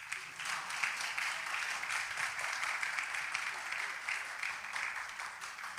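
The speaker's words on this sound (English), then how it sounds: "Please clap for us." An audience at a school freshers orientation applauds production students with steady, sustained clapping that holds at an even level for several seconds, heard from within the room.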